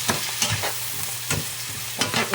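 Onions frying and caramelizing in a pan, a loud close sizzle broken by regular scraping strokes of a utensil, about four or five sweeps in quick succession.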